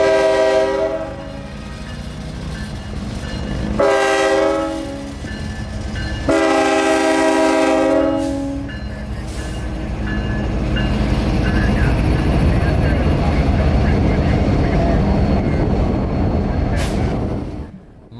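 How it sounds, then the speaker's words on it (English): A freight train led by KCS locomotive 4699 with Ferromex 4054 departs on the S-Line. Three long, loud horn blasts sound in succession, then the deep rumble of the engines and rolling cars carries on alone. "422 was ready to blast off. KCS 4699 leading Faramex 4054."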